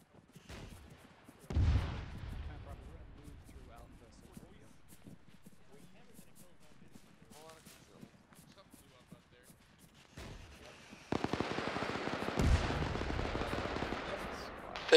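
RPG blasts and gunfire in the video game Arma during a ShackTac squad operation, with sharp distant shots and bursts scattered across the scene, a loud blast near the start and denser firing toward the end, under frequent radio-style talk.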